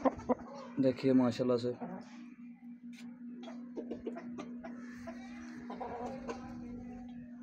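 Nali breed chickens cluck and make short rooster-like calls close by, with a steady hum running underneath and someone speaking briefly over the birds at the start.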